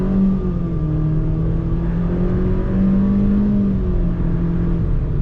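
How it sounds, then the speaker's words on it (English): A 2021 Nissan Versa with a 4-cylinder engine accelerates, heard from inside as a steady, loud engine drone whose pitch winds upward, dips with a gear change, then climbs again. "hold on, we'll just do a quick acceleration."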